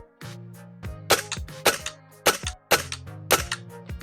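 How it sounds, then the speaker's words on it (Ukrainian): Five sharp, loud air rifle shots with metallic ringing tails, fired at a steady pace of roughly one every half second, close by. "Збираємо іншу групу з п'яти пострілів."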